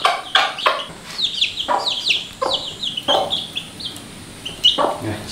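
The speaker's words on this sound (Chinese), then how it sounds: "小鸡来喝水。" Young chickens cluck and peep as they gather to drink water on a farm, with short close clucks and high chirps coming in an irregular, busy rhythm.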